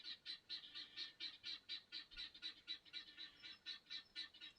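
An outdoor bird calls in a fast, steady series of short honking notes, repeated rhythmically throughout at a faint, distant level over quiet background hiss.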